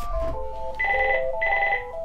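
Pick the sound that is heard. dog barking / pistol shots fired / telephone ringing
telephone ringing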